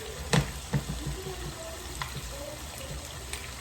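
Seasoning for Jamaican-style saltfish and callaloo sautéing in a pan, a faint soft sizzle with a few sharp pops and clicks, close and quiet.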